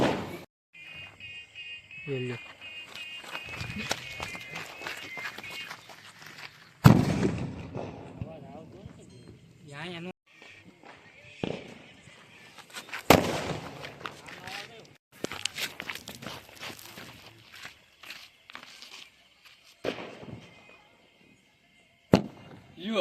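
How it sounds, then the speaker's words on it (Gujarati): Diwali fireworks and firecrackers bursting outdoors, with sharp loud bangs scattered irregularly through the clip amid crackling, while people talk and call out nearby throughout. "એ કયો બોમ્બ હે દાડમમાં એવા થઈ જાય છે."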